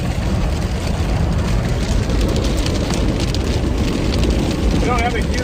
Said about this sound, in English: Wall of rain right there.